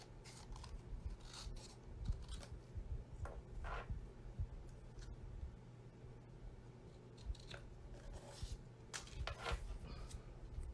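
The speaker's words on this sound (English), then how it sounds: "And then I'm just going to cut it." Material for fall treat holders being cut with scissors, a series of soft, close snipping and rubbing sounds at an uneven pace, faint overall.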